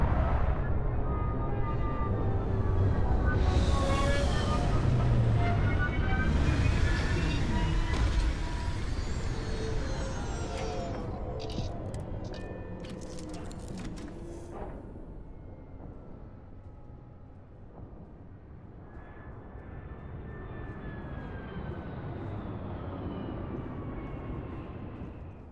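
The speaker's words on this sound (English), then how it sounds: "Retros firing." Spaceship retro thrusters fire during a landing in the Starfield video game. A loud, broad roar fades into a lower, steadier hum with some hissing bursts along the way. There is no talk.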